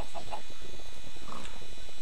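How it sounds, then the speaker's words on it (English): Chickens cluck in the Minecraft video game, several short, fairly loud clucks spread unevenly across the clip, with no talk and only a low, busy background behind them. "them chickens are pretty stupid"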